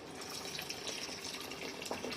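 Water poured into a pan of frying fish pulusu with tamarind juice and paste, a steady close splashing pour that runs alone throughout.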